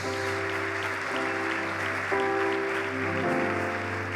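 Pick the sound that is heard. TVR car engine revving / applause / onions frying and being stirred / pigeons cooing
applause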